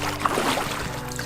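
A canoe moves across water with soft paddle splashes and light trickling, close and quiet, with no voices over it.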